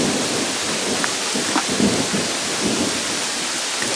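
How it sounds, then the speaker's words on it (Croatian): Thunder rumbles loud and continuous through heavy rain pattering on surfaces outdoors, where stones are being sorted for a barbecue grill build; no one speaks. "Ali grmi je."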